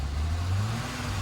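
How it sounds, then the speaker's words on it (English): A BMW E30 325iS engine, with a suspected throttle position sensor fault, roars at full throttle, loud and close, with a low steady drone that sags through the brief burst. "look what happens when I floor it. It dies."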